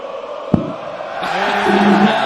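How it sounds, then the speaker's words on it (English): Darts crowd at the German Darts Grand Prix 2022 roaring and shouting as a player throws, a sharp thud followed by a swelling, sustained wall of cheers and yells in an arena. "Crowd are playing their part in this one now."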